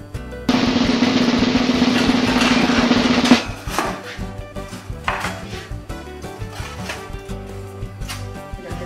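Baked, gratinated broccoli on a tray being pulled from an oven: a few seconds of steady whooshing oven noise, then a run of close metallic clatters and knocks from the tray and rack.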